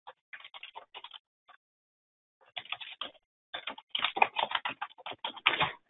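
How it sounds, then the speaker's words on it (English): Keys on a computer keyboard are tapped in quick, quiet bursts, a short flurry, a pause, then denser rapid typing at close range. "I'm going to type in our description of service contract"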